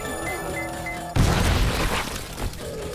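In 7 Days To Die Alpha 20, a demolisher zombie explodes after being set off by a robotic turret. A tonal in-game hum cuts to a sudden loud boom that rolls into a rumbling crash and fades over about two seconds.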